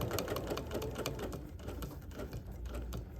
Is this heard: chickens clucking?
no